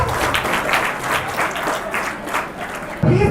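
A hall audience at an IEEE Day event breaks into applause, a dense, loud wash of many hands clapping close by, steady for about three seconds before an abrupt change at the end.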